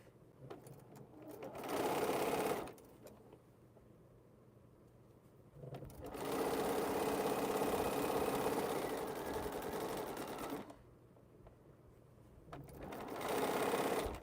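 A sewing machine stitches quilt pieces in three sustained runs of fast, whirring needle rhythm, separated by quiet pauses, close and clear.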